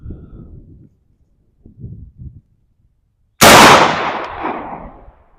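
A single loud 12 gauge shotgun slug shot fired at an outdoor range from a lead sled, a sharp close blast with a decaying tail, preceded by soft low muffled sounds and quiet gaps.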